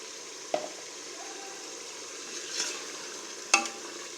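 Ground masala paste cooks in a pan for mutton curry, with a soft low sizzle under three distinct stirring scrapes and knocks, close and fairly quiet.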